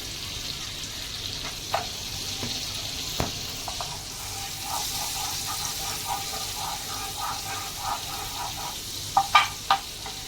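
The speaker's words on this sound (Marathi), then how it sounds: "आता मी इथे पॅन तापवत ठेवला आहे. त्याच्यामध्ये मी हे बटर टाकते आणि थोडंसं तेल टाकते" Butter and a little oil sizzle in a heated pan, a steady soft frying hiss broken by scattered crackles and a few sharper pops near the end, with no talking.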